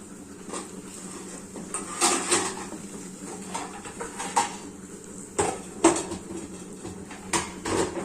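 A metal plate being set onto a gas stove kept on a low flame, with a series of sharp metallic clanks and scrapes spaced irregularly over a quiet background.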